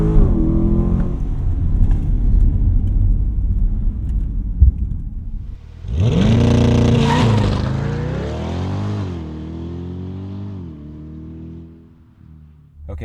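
A 2020 Chevrolet Corvette Stingray accelerates hard on a launch run, its loud engine roar climbing in pitch through several gear changes before easing off near the end, with no talking.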